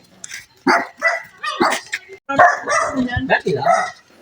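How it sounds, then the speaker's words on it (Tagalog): A dog barks in short bursts close by while people talk over it. "May aso."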